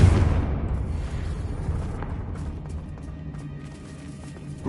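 The Confringo fire-blast spell in Hogwarts Legacy bursts as a loud explosion that fades into a long, rumbling tail, and a smaller crackle follows near the end.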